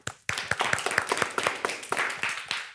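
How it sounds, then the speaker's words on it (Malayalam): A group of children clap together after a brief silence, a lively run of distinct, fairly close hand claps in quick, uneven rhythm. "എല്ലാ ചങ്ക് കൂട്ടുകാർക്കും ഒരു ബിഗ് ക്ലാപ്പ്"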